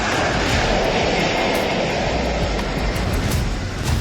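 A Russian jet airliner, an eight-engine type, roars with loud, steady broadband engine noise, a constant close rushing drone that holds without pause, with no talking.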